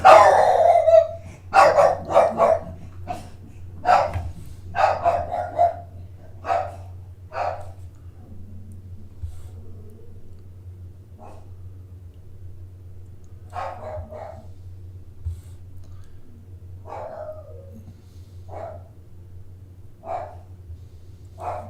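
A nearby dog barks repeatedly in loud bursts, fading to scattered, quieter barks and yips over a steady low hum.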